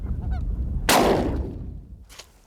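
Snow geese honk in a quick cluster, followed by a loud, sudden broadband burst that fades slowly, with a brief second burst near the end.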